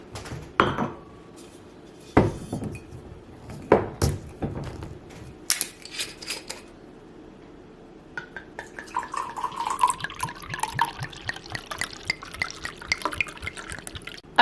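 A bottle of Jacob's Creek Moscato Rose wine is opened with a few sharp clicks and clunks of glass and cap, then poured in a steady splashing, gurgling stream into a glass that runs for several seconds, close and fairly loud.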